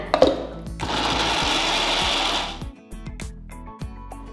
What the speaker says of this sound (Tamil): இப்போ மிக்ஸி ஜாருக்கு மாற்றிட்டு இது நல்லா மையாக அரைச்சிக்கணும்.